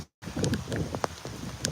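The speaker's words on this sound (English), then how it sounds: "It's starting to rain now." Rain begins falling outdoors as a steady, soft hiss with scattered patters of drops throughout, and no voices over it.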